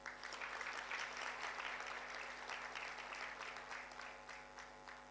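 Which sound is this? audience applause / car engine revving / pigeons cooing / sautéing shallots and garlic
audience applause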